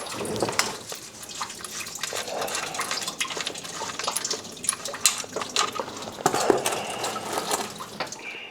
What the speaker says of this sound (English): I can reach down and drain it from the bib cock